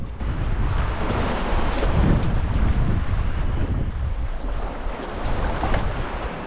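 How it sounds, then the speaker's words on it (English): Ocean waves surge and break against a breakwall with a continuous loud roar and splash, while wind buffets the microphone throughout. "some reasonable waves coming in"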